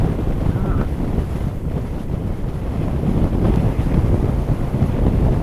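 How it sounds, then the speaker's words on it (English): Strong wind buffets the microphone on a rainy hillside road over Buttertubs Pass toward Hawes, a loud, constant roaring rush with gusts building slightly toward the end. "it's windy"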